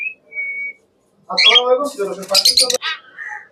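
Ringneck parrots in a bird dealer's stock give a brief whistle, then a burst of loud, overlapping squawks and chirps close by, ending in a few shorter calls.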